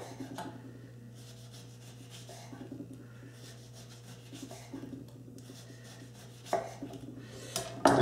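A knife slices a lemon into thin rounds on a board, soft repeated rubbing strokes at an even pace, close and quiet, ending with a couple of sharper knocks of the blade.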